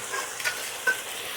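Mushrooms stir-frying in a pan, with a soft steady sizzle and a few light scrapes and clicks of a utensil stirring, close and fairly quiet, no talking.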